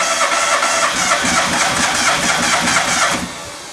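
Geo car engine cranked after a lifter repair, the starter whirring in a fast rhythmic churn for about three seconds and then fading off, heard loud and close.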